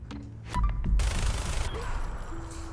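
Gunfire from the video game Fallout 4: a sudden loud burst of rapid shots kicks in and keeps rattling on as a dense fusillade, with no talk over it.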